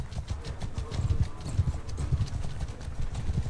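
Hooves gallop in a video game set in the Southern Empire. The clip-clop is fast and rhythmic and fairly close, running without a break and with no talking over it.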